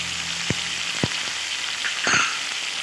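Onion paste, dried chili and cumin paste frying in hot oil, a steady close sizzle with a few sharp spoon knocks against the pan and a brief louder spatter near the end.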